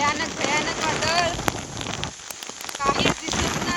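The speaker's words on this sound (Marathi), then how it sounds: "तुम्ही बघत असाल किती वादळ सुटले ते." A fierce storm with heavy rain lashes a fishing trip at sea off Arnala: dense rain and gusting wind roar on the microphone while voices talk through it.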